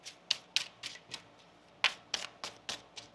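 Tarot cards are shuffled by hand in a run of about ten quick, crisp riffling snaps, close and uneven in rhythm, with no talking.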